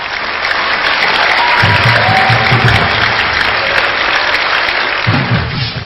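A crowd gives loud, continuous applause to welcome a singer. Dense clapping fills the whole stretch, and a voice briefly murmurs beneath it.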